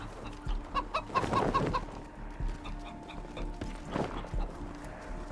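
Chickens clucking in the video game Wasteland 3, a short burst of clucks followed by another cluck a few seconds later over low ambient background.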